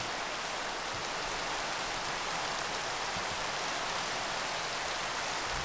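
Rain falls in the video game Minecraft as a steady, dense hiss of broadband patter, even and unbroken throughout with no voices.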